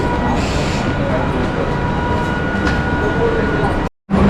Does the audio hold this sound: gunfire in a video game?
no